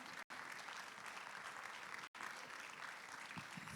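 An audience at a one-day event for creative professionals applauds steadily and densely, the clapping continuous and fairly distant with two brief cut-outs.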